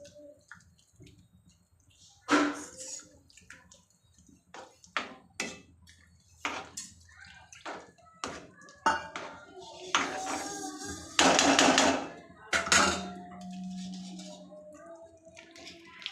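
Wet stirring and scraping of semolina batter with water in a bowl for kachori, with intermittent clinks and sloshes, near and fairly clear, with brief pauses between strokes.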